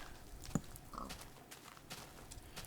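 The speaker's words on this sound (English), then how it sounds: "Is that your house, Mr. Pig" A Minecraft pig oinks once, a short grunting call in a quiet game scene, followed by faint soft background sounds.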